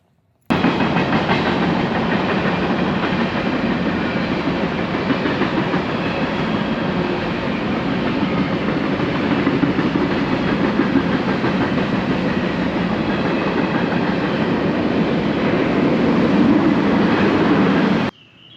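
A train passing close by on a railway near a campsite, a loud, steady rumble with rhythmic clickety-clack of the wheels that starts abruptly and holds for most of twenty seconds before cutting off.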